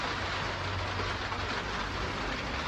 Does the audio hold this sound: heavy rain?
yes